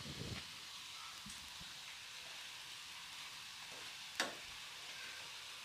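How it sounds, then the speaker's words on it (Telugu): Gulab jamun dough balls sizzle and bubble in hot oil with a steady, soft crackling hiss and a couple of faint clinks, no voices. "ఇవి మొత్తం చూడండి ఇలా ఫ్రై అవుతున్నాయో"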